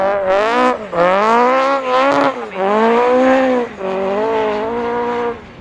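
Autograss race cars come round the last corner at a St Neots track, engines revving and rising in pitch as they accelerate. The roars sound loud and close, with brief dips between them and rapid throttle changes.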